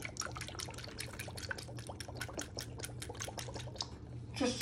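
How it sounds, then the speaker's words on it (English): Soy sauce splashes into a bowl while preparing Chinese chicken lettuce rolls, heard as a quick run of soft, close liquid drips and patters. "And you just want to put a few splashes in."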